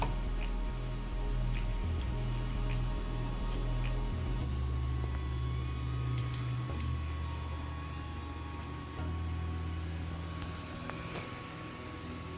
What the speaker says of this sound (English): this will automatically send the printer back to where it originally starts.